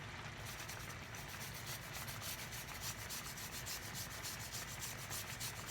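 Food scraped back and forth over a tiny, sharp cheese-style grater gives a quiet, rhythmic rasping of quick repeated strokes, close by and with no talking.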